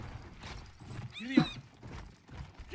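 Horse in the World War I shooter Battlefield 1, with soft clip-clop hoofbeats and a brief neigh-like squeal in the middle, blended with game noise at moderate level and no clear talk.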